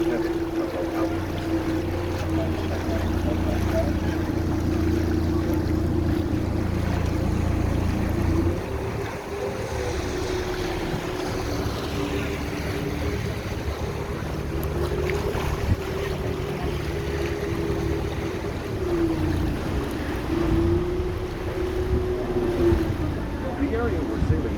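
A tour boat cruising an Amsterdam canal, its engine holding a steady low drone with wind and water wash around it, the pitch shifting slightly partway through, while a voice talks over it.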